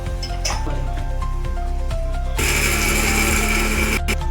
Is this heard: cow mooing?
no